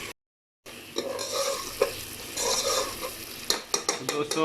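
Masala frying and being stirred in a pot for dal kaddu, a pumpkin and lentil dish, with soft steady sizzling and repeated scraping and clinking of a spoon against the metal, close up and without talk.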